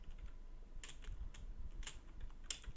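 Keys on a computer keyboard tapped in a few sparse, separate clicks, faint and close, with no talking over them.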